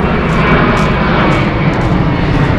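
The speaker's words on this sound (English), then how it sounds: "this is a great time of year to have airplanes flying over your head when you're trying to do a video" Fixed-wing airplane flying overhead above the Everglades National Park, a loud, continuous engine roar that fills the whole stretch without a break.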